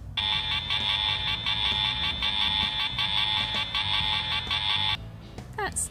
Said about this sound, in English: Fireman Sam is checking out the lift and the emergency alarm.